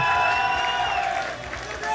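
An esports tournament audience applauds and cheers the finalist teams before a Dissidia cup final, crowd noise at moderate distance with a raised voice running through it.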